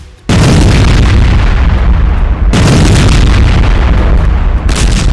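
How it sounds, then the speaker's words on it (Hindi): Massive, roaring blasts of bunker buster bombs from B-2 bombers striking Iran fill the clip, one heavy explosion rumbling on and then a second deep boom hitting mid-way, loud and close with no speech. "उन्होंने बंकर बस्टर के धमाके किए।"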